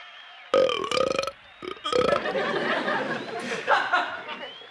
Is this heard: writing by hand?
no